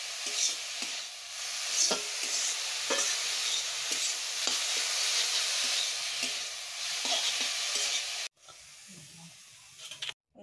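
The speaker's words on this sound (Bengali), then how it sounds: "এখন আমি আর অল্প তেল দিয়ে দিব, নাড়াচাড়া দিয়ে তেল দিয়ে নামিয়ে নেব।" Lentil fritters sizzle and hiss in hot oil in a pan as a utensil stirs and scrapes them in a repeated rhythm, close and fairly quiet, before the frying cuts off near the end.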